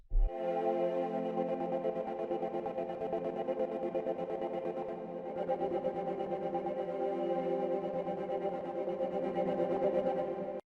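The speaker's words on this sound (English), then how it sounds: "Synth Dark Choirs is really cool when you put the macro 3 up" A dark synth choir preset from a bass house sample pack, with a gator effect chopping the sustained choir chords into a steady rapid pulse, playing continuously and alone with no talk.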